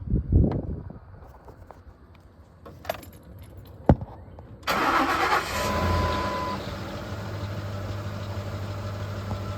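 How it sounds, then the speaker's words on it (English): A Ford F-150 with a 5.4 Triton engine at 188,877 miles cranks and fires up after a jangle of keys and a few clicks, then settles into a steady, close idle. "let's do a start up"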